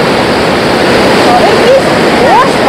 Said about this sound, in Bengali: উপরে কোথাও থেকে জলটা আসছে